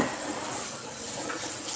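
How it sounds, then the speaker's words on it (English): A dish rinsed under a running kitchen tap, steady broadband splashing water, close and continuous, with no voices over it. "what I'm going to do is just give that a bit of a rinse"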